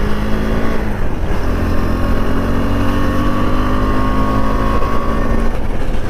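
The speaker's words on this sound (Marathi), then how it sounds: "या डांबरी रोडवरती मस्त गाडी एकदम मक्खन स्मूथ चालते" A motorbike rides along a smooth asphalt road, its engine giving a steady, loud drone with a constant rumble and hum throughout and no talking.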